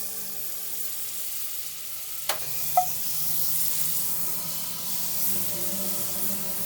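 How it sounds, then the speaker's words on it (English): Butter sizzles and browns in a pan as the base for an orzo pasta dish, a steady soft hiss and crackle with a couple of brief sharp clicks near the start, fairly quiet and continuous throughout. "We're browning the butter now."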